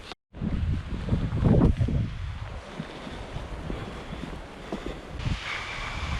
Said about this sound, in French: je sens le vent qui commence à faire des grosses rafales